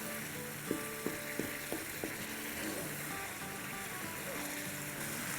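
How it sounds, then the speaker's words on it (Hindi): Tomato and keema karahi sizzles and fries in a pan over a high flame, a steady quiet crackle with a few soft stirring knocks near the start. "आप फ्लेम हाई रखेंगे और इसकी हम भुनाई करेंगे।"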